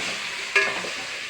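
Half a kilogram of chicken being stirred in a cooking pot for chicken kuska, with a soft steady sizzle and one brief louder scrape of the spoon partway through.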